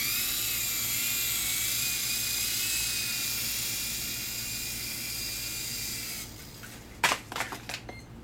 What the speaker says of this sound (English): Very, very nice helicopter to fly.